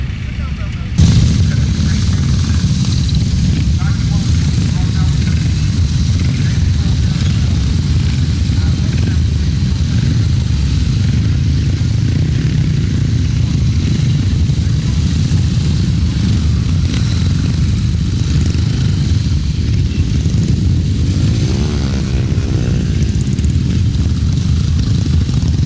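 500cc motorcycles rumble at a grasstrack race meeting, a steady low engine drone throughout with a public-address announcer talking over it.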